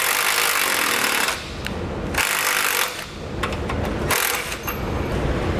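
A factory bolt is driven back into a 2013 Jeep Grand Cherokee during a Roadmaster Direct-Connect base plate install, with loud bursts of power-tool rattling broken by short pauses and scraping, and no voices.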